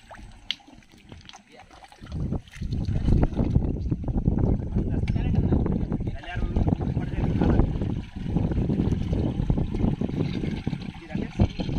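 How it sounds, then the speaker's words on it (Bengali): A long, rough rumbling and scraping as a boat slides slowly down toward the water, with gusty wind noise over the microphone. "আজকে নৌকাটা একদম স্লো স্লো নামানো হচ্ছে"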